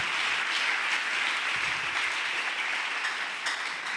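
A church congregation claps and cheers in praise, a dense, continuous wash of applause that holds steady and fills the room throughout.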